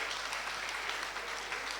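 Crowd applause at a Senegalese wedding as the couple Paul and Esther arrive, dense, continuous clapping filling the room at a steady level.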